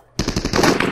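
A short burst of rapid machine gun fire rings out in the World War 2 shooter Vanguard: Normandy 1944, the shots loud, close and tightly packed for under a second.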